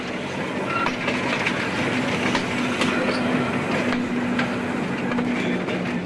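An electric mountain railway car on the Isle of Man rumbles steadily along its track with a continuous rattling roar and faint rhythmic clacks, with no voices over it.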